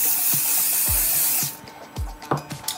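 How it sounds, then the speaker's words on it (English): Hairspray is sprayed onto a 3D printer bed, an Artillery Sidewinder X1: a steady hiss from the aerosol lasts about a second and a half, then stops, followed by a few close knocks and rubbing sounds. "I'm going to use hairspray and put a thin layer on the bed"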